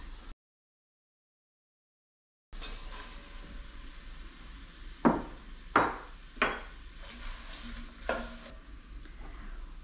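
Thinly sliced red onions sizzle in a pot while being cooked for a one-pot braised chicken thigh dinner, a steady low frying hiss broken by several sharp stirring scrapes and clatters, following a brief silent gap near the start.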